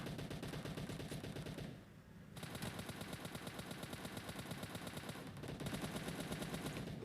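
Rapid automatic gunfire from the video game PUBG Mobile rattles in dense, continuous bursts, loud and steady, with a brief lull near two seconds before the firing resumes and intensifies toward the end.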